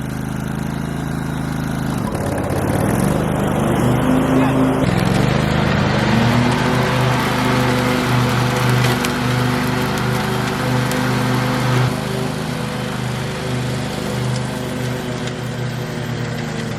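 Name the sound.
lawn mower engine running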